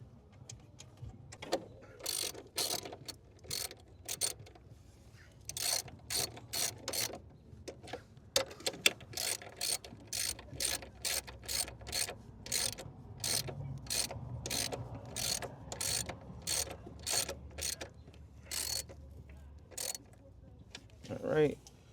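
A hand ratchet with a 13 mm socket turns the strut tower brace bolts on a B8.5 Audi S4, making long runs of quick, close metallic clicks with short pauses between strokes.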